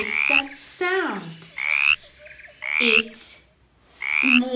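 A frog in a jungle setting gives a run of four or five loud, close croaks with short pauses between them, some mixed with lower rasping sounds, and no one talks.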